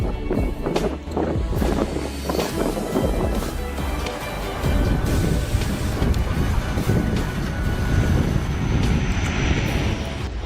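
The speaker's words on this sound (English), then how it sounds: "pilots achieved a jaw-dropping feat by landing a Karov aircraft in fierce headwind conditions" An aircraft roars steadily as it comes in to land nose-first into a fierce headwind, its engine drone heavily mixed with buffeting wind rumble across the whole clip.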